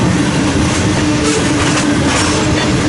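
An empty westbound coal train rolls past an eastbound manifest freight near Fremont and Ashland, Nebraska, a loud, steady rumble of wheels with clickety-clack and faint squeal, close and continuous throughout.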